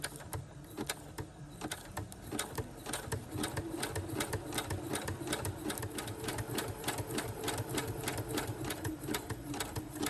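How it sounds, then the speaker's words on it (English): A sewing machine stitches through paper to make a Christmas shaker tag pocket. It runs close and steady with a quick rattling tick of needle strokes and brief shifts in pace, and no one speaks. "a quick little back stitch on it just to hold it together when we get to the very end"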